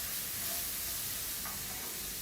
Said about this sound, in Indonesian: Kita tumis hingga wangi.